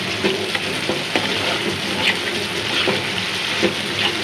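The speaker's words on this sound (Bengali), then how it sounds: "টমেটোটা দিয়ে একটু কষাই, আর পরে মাছ দেবো আর পানি দেবো।" Rui fish masala with tomato sizzles steadily in a hot pan, a dense continuous frying hiss broken by occasional soft stirring clicks and scrapes, close and fairly loud.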